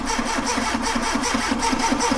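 A turbocharged Tofaş car engine runs loud and close, holding a steady, throbbing rev under the pressed throttle for the whole stretch with no talk over it.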